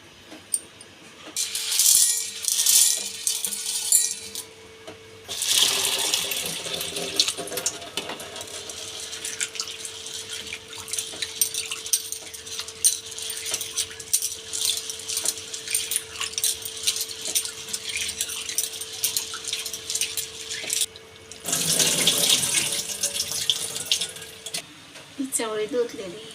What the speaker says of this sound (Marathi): आता मी चवळी 3 पाण्याने धुवून घेणार आहे.